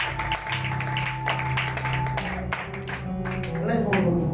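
A church congregation claps and cheers during a service at Église Le Rocher du Salut in Paris, with loud, dense, irregular applause and voices underneath.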